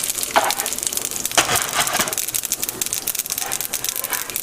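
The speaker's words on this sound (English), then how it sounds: "this sizzles, I'm going to add some mustard seeds, half teaspoon of mustard seeds" Mustard seeds crackle and pop in hot oil alongside split red chilies and curry leaves, a dense broadband sizzle broken by sharp spattering bursts, close and steady with no talking.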